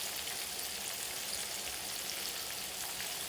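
Okra cakes frying in deep grease in a skillet give a steady, close, dense sizzle and crackle that holds evenly from start to finish, with no talking.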